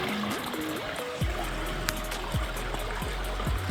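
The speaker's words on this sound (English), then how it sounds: "There's water coming out of that right there." Spring water trickles out of a rock face near an arch in Moab, Utah, a steady close trickle and gurgle, with faint high chirps over it and dull low thumps now and then.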